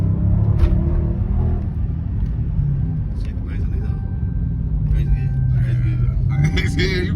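A 2019 Dodge Challenger Scat Pack with a 6.4L V8 rumbles loudly from inside the cabin, engine drone rising as it accelerates, with people talking over it throughout.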